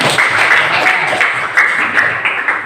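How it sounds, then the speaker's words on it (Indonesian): Students in a classroom clap together for a moment, a loud, fairly steady burst of many hands with faint voices mixed in. "Tepuk tangan semuanya."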